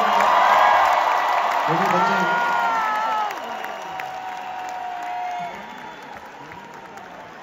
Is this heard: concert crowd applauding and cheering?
yes